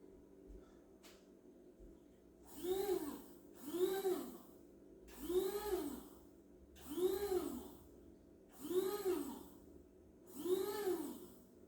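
A small electric spice grinder whirs in six even bursts, each lasting about a second with short pauses between them, close and fairly quiet.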